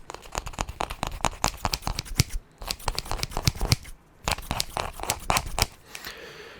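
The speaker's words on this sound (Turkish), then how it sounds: "Nasıl beğendin mi makas sesini?" Rapid, close-up snips of scissors cutting, repeated in quick rhythmic bursts with a couple of short pauses.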